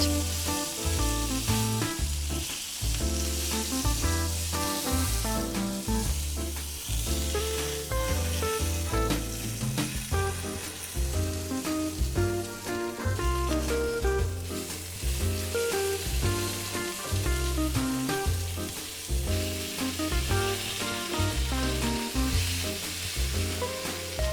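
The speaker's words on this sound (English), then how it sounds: "Now straight into a hot pan. We are not cooking it through here. We are building that deep brown crust." Beef shank sears loudly in a hot pan, building a brown crust, with a continuous hiss and crackle, set against a rhythmic musical backing.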